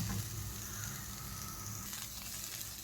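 Onion and coconut frying in a pan give a low, steady sizzle that stays even and fairly faint throughout, with no stirring bursts or voices.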